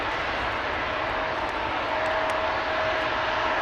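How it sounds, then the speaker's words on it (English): Engines of a KLM Airbus A330 airliner roar steadily at Amsterdam Schiphol Airport, a broad distant rumble that holds even and slowly swells. "See another A330 coming this way."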